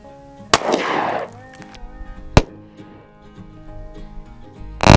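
.22LR rifle fired at a cantaloupe target, one sharp close crack with a splattering burst, then a second sharp report and another at the very end, separated by quiet room tone.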